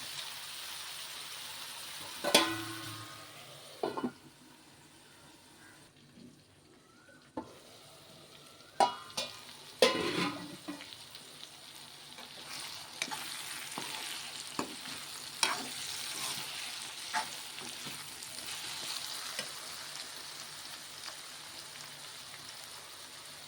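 Eggplant cooking under a lid in a pan for a mango, eggplant and flat bean curry: a soft, steady sizzle broken by scattered sharp clicks and knocks, with no one talking.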